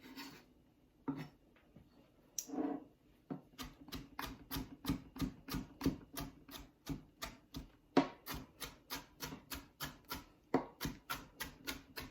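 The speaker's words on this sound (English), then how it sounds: "Now, it's not finely chopped, so what I'm going to do is chop it some more." A knife chops a shallot on a cutting board in quick, steady, close taps, a few scattered at first and then settling into an even rhythm, with no talking.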